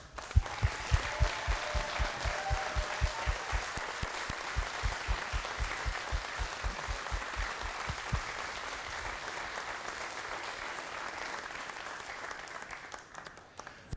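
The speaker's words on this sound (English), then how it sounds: "Please join me in a round of applause for their accomplishments." A crowd at an elementary school fifth grade moving-on ceremony applauds the class, dense sustained clapping with a rhythmic unison beat in the first half that loosens into scattered clapping and fades near the end.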